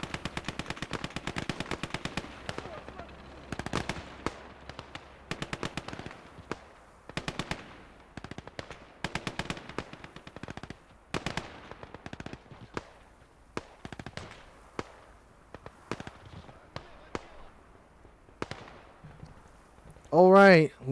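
In the Gates of Hell: Ostfront video game, gunfire and high-explosive shots crack in rapid bursts and scattered single reports. The shots vary from near to distant across a busy battlefield.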